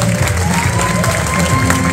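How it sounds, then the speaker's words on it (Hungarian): A church congregation at a Lutheran end-of-school-year service in Budaörs claps steadily in a continuous, dense wash of applause, with no single voice standing out. "Brőle Gergely, aki zongorázott, egy nagy tapsot érdemel."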